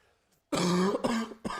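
A throat clearing erupts close and loud after a near-silent moment, followed by two short coughs, from a person hosting a World of Warcraft PvP gaming stream.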